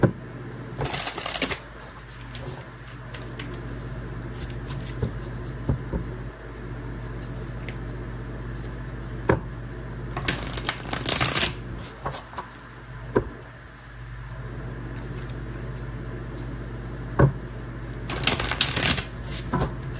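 A deck of tarot cards gets shuffled in several brisk riffling bursts, each a second or two long, separated by quieter stretches of faint handling and soft clicks.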